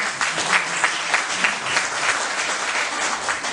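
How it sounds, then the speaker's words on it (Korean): A lecture hall audience at a professor's retirement lecture gives a steady round of applause, many hands clapping evenly at moderate volume for a few seconds, heard alone. "장 교수님께 잠깐 박수 한번 더 주세요"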